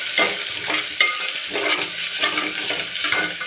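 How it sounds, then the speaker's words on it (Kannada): Onions fry in a pan for upma, stirred in a steady rhythm of scraping strokes, roughly three per second, over a continuous close sizzle with no voices. "ಆನಿಯನ್ ಹಾಕ್ತಾಯಿದ್ದೀನಿ. ಆಮೇಲೆ ಮಿಕ್ಸ್ ಮಾಡಿ"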